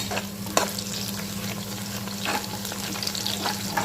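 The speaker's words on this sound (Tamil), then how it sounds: "இப்போ பாருங்கள், வெங்காயம் நல்லா வதங்கிட்டுருக்கு" Onions sautéing in a pan for beef biryani give a steady close sizzle, with a few brief stirring scrapes and no voice over it.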